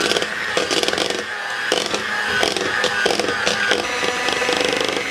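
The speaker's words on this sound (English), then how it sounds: "So I'll turn my mixer off." An electric mixer runs steadily and close by, beating cream cheese, powdered sugar and vanilla with a busy, rattling whir and bursts of clatter as the beaters scrape the bowl.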